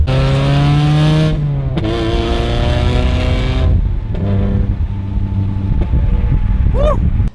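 A Mazda NC Miata with a loud, cheap aftermarket muffler exhaust revs hard nearby, holding high then dropping, followed by further blips and falling revs with a brief chirpy squeal near the end.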